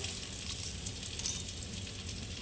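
Potatoes frying in a pan for a Bengali singi fish curry, a steady hiss and crackle of hot oil with soft stirring scrapes, continuous and fairly faint, with no talk.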